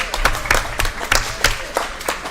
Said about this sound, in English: Giving our boys a round of applause